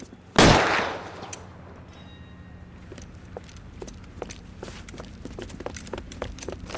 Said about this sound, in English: Just quit shooting.